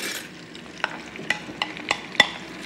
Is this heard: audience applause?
no